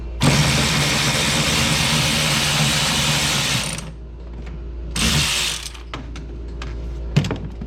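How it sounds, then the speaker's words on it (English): Ratchet wrench spinning out bolts from the clutch cover of a snowmobile fitted with a Killa-saki 34-inch Megabites clutch setup, with a long loud continuous burst, then a shorter burst and a few sharp clicks and taps. "So let's get these bolts out"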